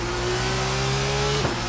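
A turbocharged race car in Assetto Corsa revs hard, its engine tone climbing steadily and loudly before a quick shift-like dip near the end.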